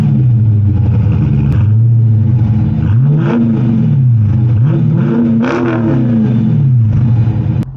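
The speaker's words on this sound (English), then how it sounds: "This exhaust sounds nice." A 2023 Chrysler 300C with the 6.4L SRT package and performance exhaust idles with a deep burble, then revs repeatedly, the engine note rising and falling in several swells, loud and close.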